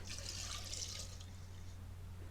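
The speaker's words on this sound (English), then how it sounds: "Add 2000 milliliters of water." Water poured into a soup pot already holding beef, scallion, ginger and white pepper, a steady liquid rush and splash lasting about a second before fading into a quieter trickle.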